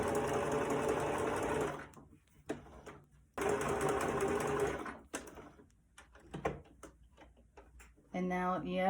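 A sewing machine stitches back and forth over the pleats of a fabric face mask in loud bursts of whirring, broken by pauses with soft handling clicks and a brief voice near the end.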